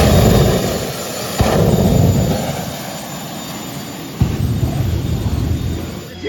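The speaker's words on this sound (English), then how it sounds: "This freaking minivan has a jet in it." A jet engine fitted in a minivan roars steadily and loudly, with two sharp surges in intensity partway through and no talking over it.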